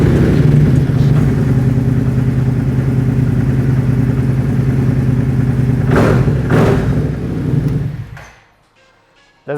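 A KYMCO AK550 scooter engine fitted with an upgraded DNA air filter idles steadily and close, with a couple of brief revs before it shuts off and falls silent near the end.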